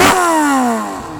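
A 1988 Yamaha FZR 1000 motorcycle engine gives one sharp, loud close rev that peaks quickly and then falls smoothly as the revs drop back toward idle.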